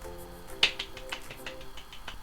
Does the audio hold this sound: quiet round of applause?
yes